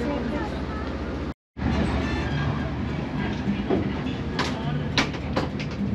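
Inside the El Chepe passenger train in Mexico's Copper Canyon, a low steady rumble with occasional rattles and clicks, briefly cut to silence early on, while people talk in the carriage.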